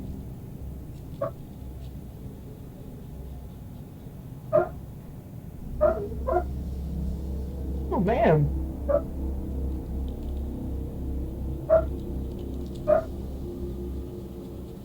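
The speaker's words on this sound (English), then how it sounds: "Why is my dog barking like that, I wonder?" A dog barks in short, separate bursts from a distance, roughly eight barks spread unevenly over the stretch, while a low rumble runs underneath and a voice speaks briefly.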